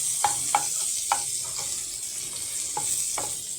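Onions fry gently in light oil for a breakfast soup. A steady soft sizzle runs throughout, broken by several sharp clinks and scrapes of a spoon against the pan.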